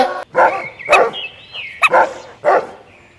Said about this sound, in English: D for dog.